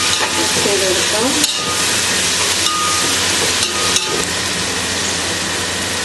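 Sliced tomatoes hit a hot pan and are stirred while being sautéed for chicken mandi, giving a loud, steady sizzle with occasional scrapes and knocks of the utensil against the pan.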